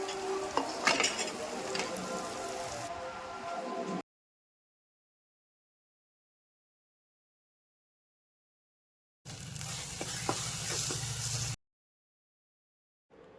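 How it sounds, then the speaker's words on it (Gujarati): Boiled potatoes are stirred into hot oil with a steady sizzle and scraping of a spoon against the pan. The sound comes in two bursts with silent gaps between them, and no one speaks. "હવે થોડીક વાર આપણે એને ચડવા દઈશું તેલમાં"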